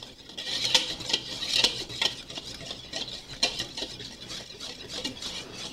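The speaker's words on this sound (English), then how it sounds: "we're just going to go ahead and give this a mix and combine it" A spoon or whisk stirs dry cake ingredients with pumpkin pie spice in a mixing bowl, giving a close, continuous gritty scraping with repeated light clinks against the bowl's side.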